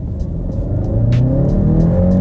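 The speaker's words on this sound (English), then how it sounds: "now what you heard there wasn't me power shifting the car. It was actually some significant rev hang going on there." A 2017 Honda Civic Hatchback Sport engine hangs at high revs between shifts, its steady, close, loud drone holding and slowly climbing in pitch instead of dropping off, with no talking.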